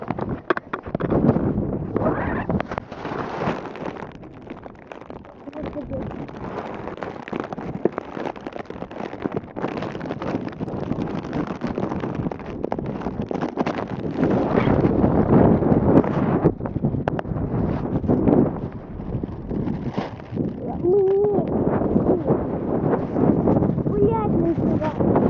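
Strong wind blowing outdoors on a walk along an asphalt path, a loud continuous roar and buffeting on the microphone that swells and eases, with a person talking over it.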